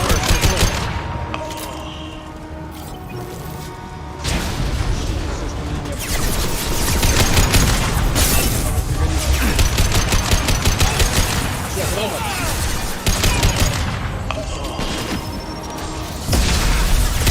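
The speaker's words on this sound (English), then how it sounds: "Enemy turret!" Sustained, dense enemy turret fire from the Mass Effect 2 Legendary Edition game, a loud continuous barrage of rapid shots and booms over combat noise lasting the whole stretch.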